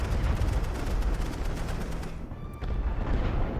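Rapid gunfire from an enemy gun in a World War I video game rattles loudly in a fast burst, then briefly dips before the heavy din resumes.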